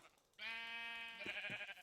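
A Minecraft sheep gives a single loud, wavering bleat lasting over a second, clear and close against a quiet background.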